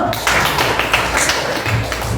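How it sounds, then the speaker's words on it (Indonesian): Students in a classroom clap their hands together, a dense, steady patter of many overlapping claps lasting the whole moment, fairly loud and close with no talking over it. "Tepuk tangannya dulu."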